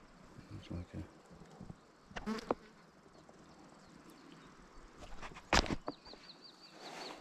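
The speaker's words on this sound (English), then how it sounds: "a bee that looks like a wasp." A bee that looks like a wasp buzzes faintly past a gravel cyclist on a sunny upland ride in Wales, in short bursts against quiet outdoor background, with a couple of brief louder passes near the end.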